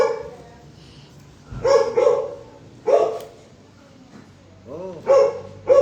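Several dogs bark in short, loud bursts, a few yips and a whimpering note among them, over a room where people chat and play the card game tongits on a Saturday morning.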